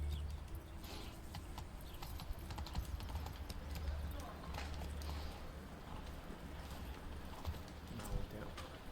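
Roach the horse gallops in The Witcher 3, with quick hoofbeats running continuously under a low rumble and a soft, constant game background.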